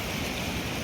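Water of the wide Baitarani river rushes through the gates of a hydroelectric barrage dam, a brief, steady, close roar of flowing water with no voices.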